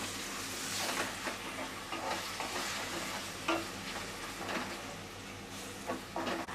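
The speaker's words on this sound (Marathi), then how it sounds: "आता हे आपल्याला गळेपर्यंत शिजून घ्यायचं आहे परतून घेऊया" Finely chopped onion and tomato sauté in a pan for chicken sukka, making a busy, fairly quiet sizzle with repeated spatula scrapes and stirring knocks, close up and without speech.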